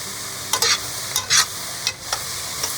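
Olive oil with salt and dried oregano sizzles in a pan with a steady hiss. Several short bursts of crackling spatter or stirring stand out above it.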